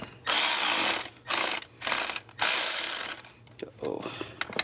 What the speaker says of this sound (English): So in tightening your pulley, use your Milwaukee cordless.